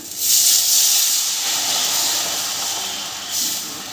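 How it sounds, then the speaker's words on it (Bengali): Water hits a hot pan of mustard bhetki fish curry with brinjal, giving a loud, close, steady sizzling hiss that fades a little over a few seconds, with no voices. "জল দিয়ে দিলাম জলটা গরম হয়ে এলে আমি মাছগুলো ছেড়ে দেব"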